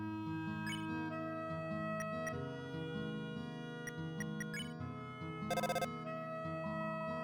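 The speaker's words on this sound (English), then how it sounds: "The phone is ringing, but you can't get it." A telephone ringing in the video game Deltarune, heard as a short electronic trill burst partway through, set against steady looping game music with chimes.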